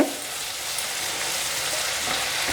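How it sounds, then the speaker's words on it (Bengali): Tomato paste for palak paneer fries in a pan with a dense, steady hiss; a few soft stirring movements are heard close up, brief and without speech. "টমেটো বাটা দিয়ে একটু নেড়ে চেড়ে নিয়ে"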